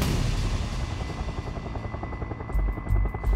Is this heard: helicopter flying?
yes